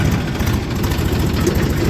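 A Massey tractor engine idles steadily at a sugarcane weighing yard, a low continuous rumble with even vibration that stays loud and unchanging throughout.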